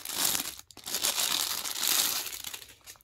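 A Minnie Mouse pouch is opened with loud crinkling and crumpling bursts of plastic packaging, close up, with a short pause between handling sounds.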